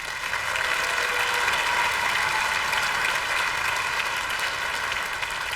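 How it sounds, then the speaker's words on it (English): An audience claps for a students' honor band at a parish concert. The applause is a dense, even, sustained roar at moderate loudness, with no talking. "Let's give another round of applause for these amazing students."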